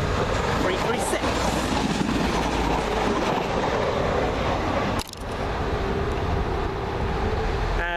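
A London Midland Class 172 diesel passenger train passes close by with a loud, continuous roar and rattling wheels that ends in a sharp break halfway through, while someone talks.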